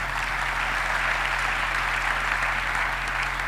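A church congregation applauds together during a sermon, a dense steady clapping that fills the room evenly throughout, with a low hum underneath.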